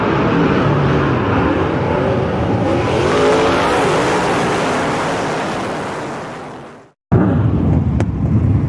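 Modified race cars roar together as they line up for a feature race, a broad constant rumble blurred by heavy wind buffeting. The sound drops out for a moment, then returns.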